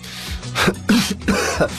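Several close, loud explosive bursts like sneezes come in quick succession, each a sharp breathy blast separated by brief pauses.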